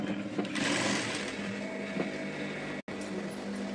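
A sewing machine stitching a salwar pant runs in a steady, fast mechanical whir with a brief stop near the end, close and moderately loud.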